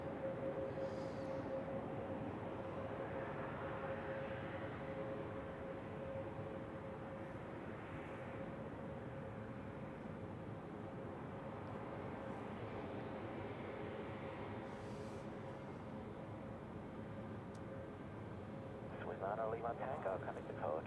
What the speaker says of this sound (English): taxiing out from a remote spot right in front of us is this Embraer 190 E2 of Helvetic off to Paris Charles de Gaulle